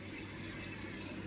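Steady running water, likely from a tap, a continuous soft gush heard close and fairly quiet with no talk.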